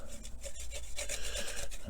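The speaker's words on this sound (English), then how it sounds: "I'm just going over with kind of a scrubbing motion" A paintbrush is scrubbed back and forth across a model train, making a soft, quick rhythmic rasping right up close with no talk.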